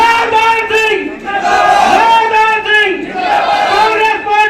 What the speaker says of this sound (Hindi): एक बार मिलकर जोर से जयकारा लगाएंगे